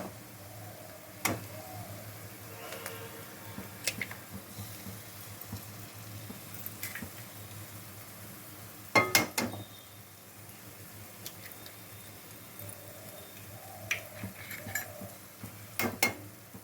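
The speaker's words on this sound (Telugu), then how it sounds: "ఎగ్స్ కొట్టి పోసుకోవాలి." Eggs cracked against a pan and poured in for egg masala curry: sharp cracking taps at intervals over a faint background sizzle, a few clustered knocks midway and near the end, no voices.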